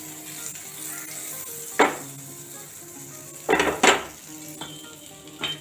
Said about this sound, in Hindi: जब ये हल्का सा टेम्परेचर में आ जाए तब इसमें हम डालेंगे बटर